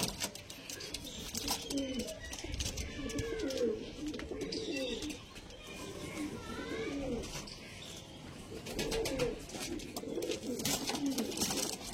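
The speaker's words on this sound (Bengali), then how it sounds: "দেখালাম পায়রা দুটো, সব পায়রা ওখানে ছেড়ে দিচ্ছি" Pigeons coo again and again in soft, throaty, rolling calls, with a few faint chirps and flutters mixed in against a steady background.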